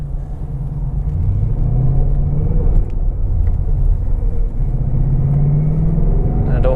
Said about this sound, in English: So just going to go out for a little drive around.